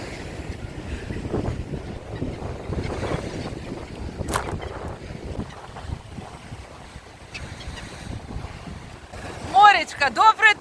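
Rough sea surf and gusting wind at Langeron beach in Odesa, a steady broad wash of waves with wind buffeting the microphone throughout, and someone talking over it.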